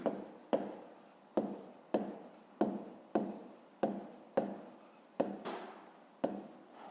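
Pen strokes writing out a fifth-grade math solution, a steady series of about a dozen scratchy scribbles in an even rhythm, close and quiet, with no talking.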